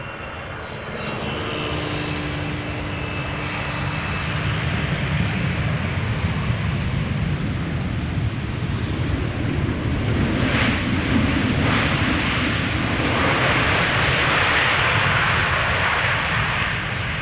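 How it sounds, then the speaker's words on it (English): A KLM Boeing 777-300ER arrives at Amsterdam Schiphol, its jet engines a broad, steady roar that swells gradually and holds at moderate distance with some wind buffeting. "300 ER arriving from Sao Paulo, KLM flight 792"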